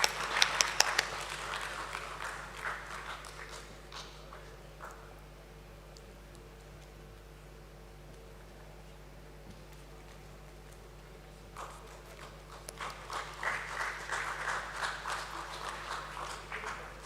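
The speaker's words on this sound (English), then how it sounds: "let's keep applauding for them" An audience applauds at a stock exchange listing ceremony, clapping loud at the start, thinning to a low murmur of room noise, then swelling back into a dense round of applause near the end.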